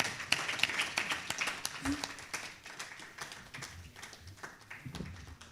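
Audience at a chemical management launch event applauding a department chair walking up to speak, a scattered patter of claps of moderate volume, steady at first and then thinning out.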